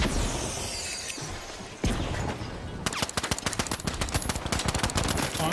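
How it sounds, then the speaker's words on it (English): A grenade blast followed by rapid, loud gunfire in the multiplayer shooter game The Finals: one sharp explosive hit, then dense bursts of automatic shots through the rest of the clip. "You think this nade kills someone right here?"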